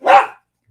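A single loud, close dog bark, short and sharp, standing alone with silence after it in an indoor room.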